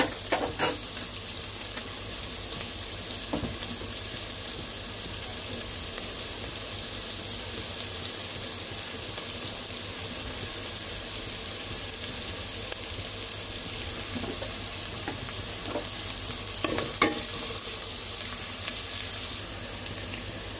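Egg biryani ingredients frying in a pan give a steady, fairly quiet sizzle throughout, with occasional stirring clicks and a brief louder burst toward the end.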